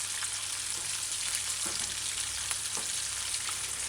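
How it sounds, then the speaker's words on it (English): Steady, dense sizzling and crackling of chicken deep frying in hot oil, continuous throughout with occasional small pops. "Be slow deep frying."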